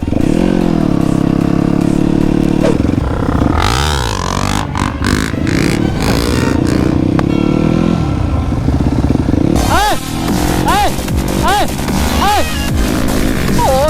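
A motorcycle rides along a reservoir bank, its engine loud and close as it revs and shifts up through the gears with rising and falling pitch sweeps; a rider talks over the engine noise.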